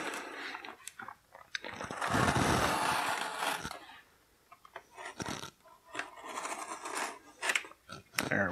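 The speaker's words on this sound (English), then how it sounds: "I'm going to go ahead and cut out the tape holding in the action figure." Scissors snip and scrape through tape holding an action figure inside toy packaging, giving a longer rasping cut followed by a series of short clicks and crinkles from plastic, close by.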